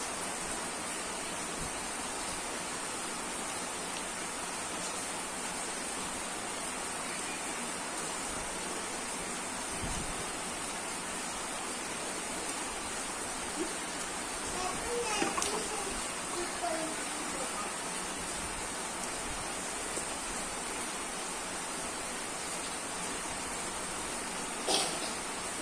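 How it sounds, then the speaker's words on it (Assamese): Heavy pouring rain makes a steady, even hiss that holds unbroken throughout, fairly quiet overall with a few faint knocks and splashes near the middle and end. "পুৰা দবা পিটা বৰষুণ"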